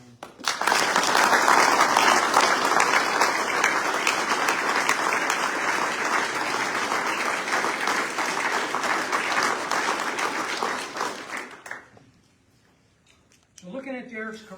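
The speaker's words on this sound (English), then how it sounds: "please join me in another round of applause for this incredible family" Loud, sustained audience applause at a military retirement ceremony honoring a brigadier general's family, dense clapping for about eleven seconds before dying away, followed by a brief voice.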